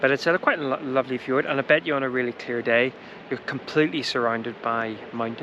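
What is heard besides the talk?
No everyday noise stands out behind the speech.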